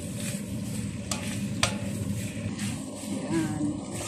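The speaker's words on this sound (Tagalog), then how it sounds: "Halo-halo muna natin guys. Lutuin natin ng mabuti ang ating sangkap." Ingredients seasoned with black pepper being stirred in a pan: a steady sizzle and frying hiss runs throughout, with a couple of sharp utensil clicks against the pan and soft scraping strokes, close up.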